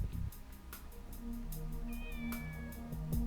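A cat in the video game Shenmue meows several times in short, thin cries over a steady droning game background, with a longer wavering meow near the end.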